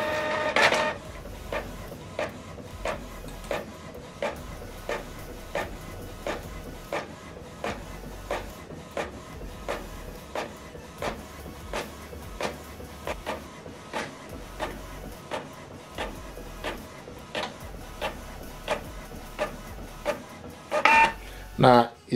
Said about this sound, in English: Can see the document is printing out.